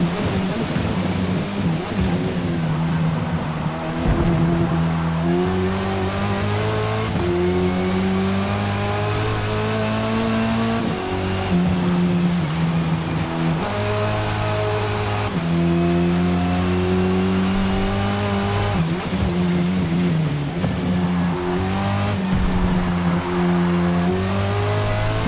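Golf GTI touring car racing at Road America in Forza Motorsport, its engine revving up through the gears and dropping on downshifts in repeated cycles, loud and close, with tire noise beneath and no talk.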